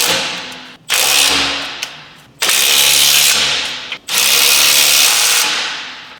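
A power tool tightens 21mm fasteners on an off-road bump stop during rear suspension work on a 2023 Chevrolet Colorado, running in three loud, sustained bursts with short pauses between them.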